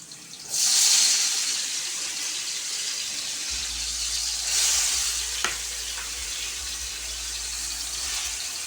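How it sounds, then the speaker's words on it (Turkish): Tomatoes go into peppers frying in oil, and a loud burst of sizzling starts, then settles into a steady hiss with a low hum underneath. "Biberlerimiz güzelce kavruldu. Şimdi domateslerini veriyorum."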